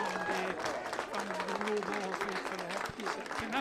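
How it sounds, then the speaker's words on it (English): Crowd applause at a hurling intermediate county final between Bruree and Murroe Boher, a continuous clapping wash under a commentator speaking over it. "getting a huge round of applause from the Murroe Boher field for the help"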